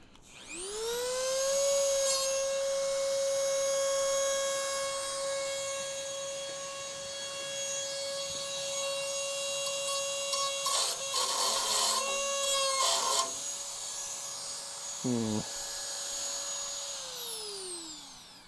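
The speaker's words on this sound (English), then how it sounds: "We should be able to get in there with that Dremel." A Dremel rotary tool whines steadily at high speed while grinding on a Crew Cab Charger under restoration, its pitch wavering with brief rattling bursts as the bit bites into the metal before it spins down at the end.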